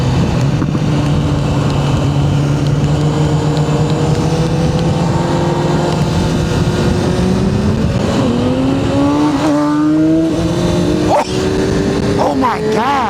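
A 1000cc motorcycle revs hard while popping a wheelie, its engine note climbing in rising pitch sweeps and staying loud and close throughout, with excited voices talking over it.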